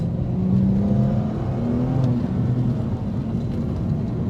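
A BMW M2 Competition's engine drones steadily as the car drives and accelerates, a loud, continuous close-up hum with no talking over it.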